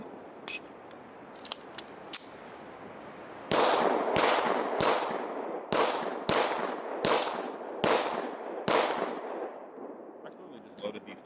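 A Springfield Prodigy pistol fires a string of loud, sharp shots, first a few spaced ones and then a rapid run of about a dozen, with a short echo after each and no talking.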